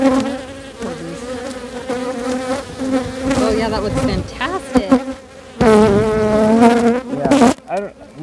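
Honeybees swarm around an open hive during an inspection, a dense, loud, close buzzing that wavers in pitch and intensity throughout while a person talks over it.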